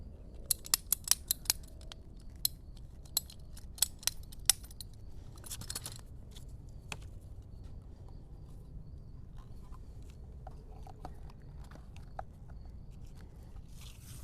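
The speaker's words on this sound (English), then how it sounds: "I'm using a standard tubing cutter. It's also used for PVC pipe. We'll cut it just right there." A standard tubing cutter snips through plastic tubing for an autolysimeter setup, giving a quick run of sharp, close clicks and crunches in the first few seconds, then scattered single snaps over a quiet background.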